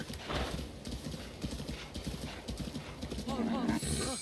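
A horse's hooves clip-clop at a slow, steady pace in Breath of the Wild, under near-continuous talk, with a brief whinny-like tone near the end.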